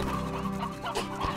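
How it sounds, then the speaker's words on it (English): Chickens in the video game Slime Rancher cluck in a short, close burst of several quick, rhythmic clucks, heard alone without talk. "I hear chickens."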